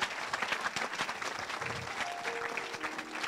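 A church congregation applauds the Lord in sustained, dense clapping that carries on evenly for about three seconds, with faint crowd voices mixed in.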